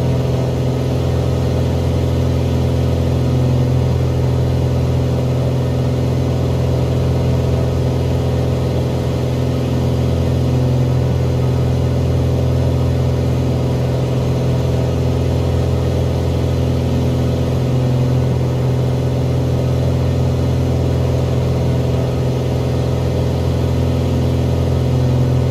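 Piper Arrow single-engine propeller aircraft in Microsoft Flight Simulator 2020, throttled back to cruise power with the prop pulled to 2500 RPM: a steady, loud, droning engine hum that holds even and unbroken throughout, with no voices.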